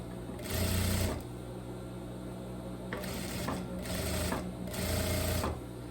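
A sewing machine runs topstitching over the binding of a viscose dress neckline, three close rapid mechanical bursts separated by short pauses, with soft fabric handling between runs.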